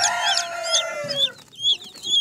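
European short silkie chickens with black meat cluck and squawk close by on a poultry farm, a drawn-out harmonic call followed by several shorter rising clucks in quick succession.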